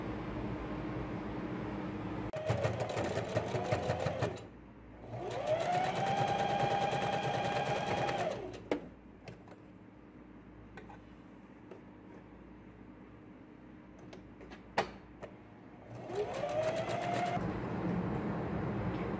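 Sewing machine stitching the side seams of a girl's dress with a one-centimetre seam and zigzag edging, running in bursts with pauses between, fairly close and steady, alone without talk.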